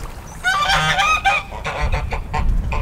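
A flock of geese honking loudly and close, a dense burst of repeated nasal calls that thins into scattered honks over rustling background.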